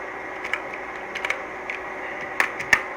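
Keys are pressed on a computer keyboard in a few sparse, sharp clicks over a steady background hum, close and without talk.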